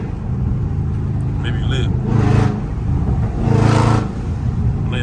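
A loud Dodge Scat Pack surges through two sharp rev bursts while driving in traffic, its deep exhaust roar rising and falling close up as someone talks over the engine.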